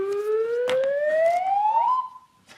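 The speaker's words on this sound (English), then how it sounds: "Fingers on buzzers, teams." A game show buzzer on a television panel quiz sounds as a loud electronic tone sweeping steadily upward for about two seconds before cutting off, with no talking over it.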